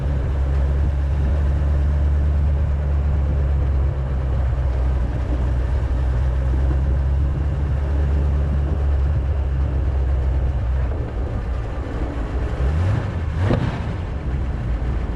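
A cold 1932 Ford Roadster engine pulling in second gear on the road, a loud steady low rumble with a brief rising swell near the end and no talk.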